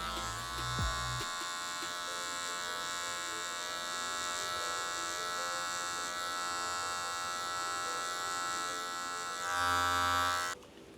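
Electric hair clippers fitted with a guard cut hair close to the microphone, giving a steady, even buzzing hum that runs throughout with small shifts in tone as they move.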